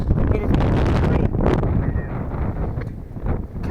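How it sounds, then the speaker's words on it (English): Strong gusts of wind buffeting the microphone outdoors on a winter day, a loud rumbling roar that swells and eases in bursts, with a voice speaking partway through. "And it is windy as hell out today."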